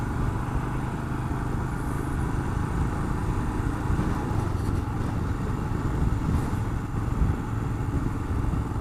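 A Royal Enfield Himalayan 2021 motorcycle engine drones steadily throughout while riding, a continuous mid-pitched rumble with wind noise and no voices.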